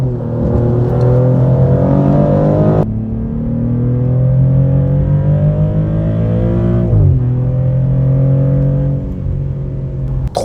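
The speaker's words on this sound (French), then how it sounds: "Je préfère quand même la mélodie du moteur," A Maserati GranTurismo Trofeo engine revs loudly and rises in pitch, drops back briefly, then climbs again in smooth, powerful sweeps, close up.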